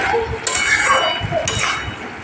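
Pumpkin curry stirred in a pan with a utensil, two close scraping and clinking strokes over a soft background sizzle, with no talking.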